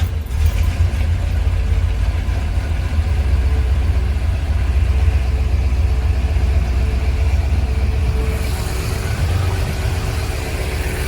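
A 1964 Corvette's factory fuel-injected 327 V8, rated 375 hp, idles close by with a deep, steady rumble and a slight lope. It stays constant throughout and no one speaks.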